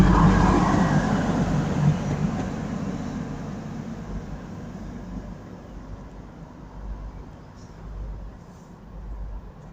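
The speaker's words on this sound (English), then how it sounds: "Departing now is the TPX service to Newcastle 185 115." A TransPennine Express class 185 diesel unit pulls out of Durham station bound for Newcastle, its low engine rumble loud at first, then fading steadily as it draws away.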